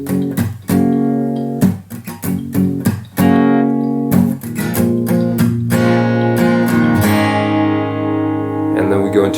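Acoustic guitar strumming full chords from the last line of the chorus of a song in a steady rhythm, with brief pauses between groups of strums and ringing sustain at the end; no voices.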